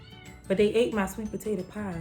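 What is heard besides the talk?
cat meowing to come out of the basement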